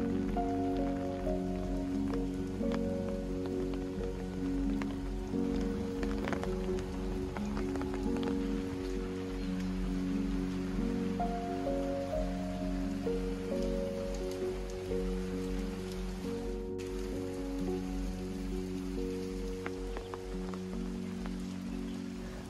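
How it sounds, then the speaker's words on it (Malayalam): Light rain falls steadily on lush greenery at Banasura Dam in Wayanad, a soft, even patter that continues unbroken throughout beneath faint sustained tones. "എന്നാ പിന്നെ മഴ പെയ്യട്ടെ."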